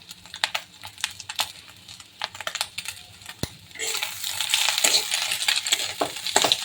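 Meat frying in a pan with ginger, garlic, raw skin, salt and Maggi masala: sharp clicking spatula taps at first, then a louder, denser sizzle with stirring close by.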